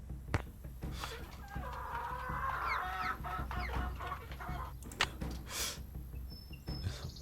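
A chicken in Nancy Drew: Secret of Shadow Ranch clucks and warbles in an odd, drawn-out run of throaty, quavering notes, with a few sharp knocks and brief clatters around it against a quiet ranch backdrop.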